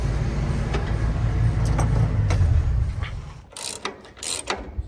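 Hydraulic whine and mechanical rattling as the reels of a Dominoni corn header spread apart, a loud droning motor under scattered clicks, then the drone drops away, leaving sharp metallic clanks and ratcheting knocks.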